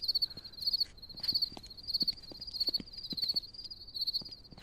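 Crickets chirp in the DREAD game's ambience, a steady high trilling pulsing in regular bursts roughly every half second, with soft clip-clop-like ticks underneath, no voices present.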